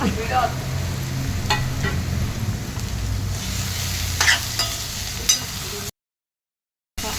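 Onion and tomato fry for a prawn masala, a steady close sizzle with occasional stirring scrapes, cut by a brief silent gap near the end.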